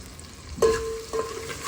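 Onion and tomato sauté in a pan with salt, giving a steady, soft sizzle with a couple of brief clinks or stirring scrapes.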